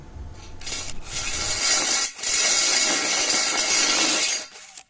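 Steady grinding and scraping of a tool reaming a hole in steel for a stud, a continuous harsh rasp with one brief pause, close and fairly loud.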